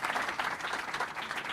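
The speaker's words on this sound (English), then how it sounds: "Let's give him a big round of applause." Applause from a studio or event crowd for Greg Alexander, a steady burst of clapping heard close and alone, lasting briefly without any voices over it.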